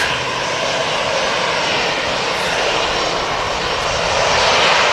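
EasyJet airliner engines run at Manchester Airport, a loud, continuous broadband roar that holds steady and builds slightly toward the end.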